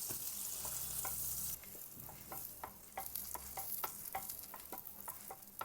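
Pav bhaji buns warmed in an oiled pan, a gentle sizzle with light scraping and tapping as they are turned, fairly quiet and close.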